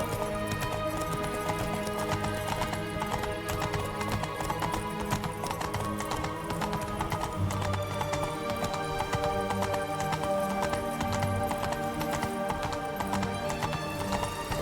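A horse gallops in the video game The Witcher 3, its rapid rhythmic hoofbeats running continuously under game music and ambience, with a neigh mixed in.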